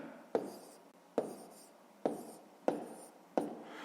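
Numbers being written by hand during a Ukrainian fifth-grade maths exercise in column multiplication: five short scratchy pen or chalk strokes at a steady pace, each a sharp tap trailing into a brief rub, close and fairly quiet.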